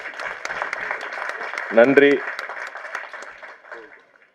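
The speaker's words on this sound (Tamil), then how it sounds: "தேவ் அவர்களுக்கு ஒரு பெரிய கைத்தட்டல்." A crowd at a film audio launch applauds throughout with dense, steady clapping and scattered cheers. Someone speaks briefly over the clapping, which thins out and fades near the end.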